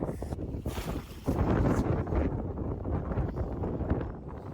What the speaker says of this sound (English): Should I turn the engine off?